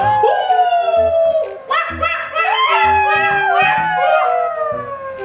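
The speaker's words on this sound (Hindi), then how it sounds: "इतना बोल के सियार ने हुक्री देना शुरू कर दिया" A jackal howling in a Hindi folk story, drawn-out wavering howls layered over one another, loud and close, with rhythmic background music beneath.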